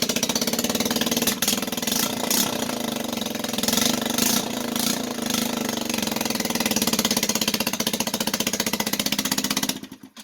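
A cheap 150cc moped scooter with a bad exhaust leak sputters and runs at a steady idle, its engine note rough and continuous close by, then cuts off abruptly at the end.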